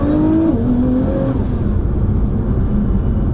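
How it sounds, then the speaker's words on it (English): A high, steady gearbox whine from a 1,000 bhp Nissan GT-R rises and falls over a loud roaring engine and road rumble, continuous throughout. "you'll notice the gearbox almost makes like a whining noise, like a bloody race car."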